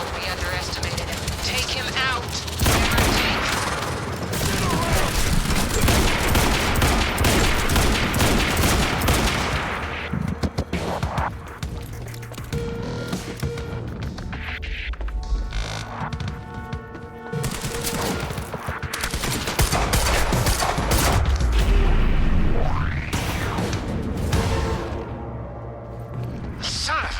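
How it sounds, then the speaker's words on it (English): Bursts of automatic gunfire and single shots ring out in an underground parking area in the Quantum Break game, loud and close, broken by whooshes and booms while voices speak over the firefight. "gunfire in the underground parking"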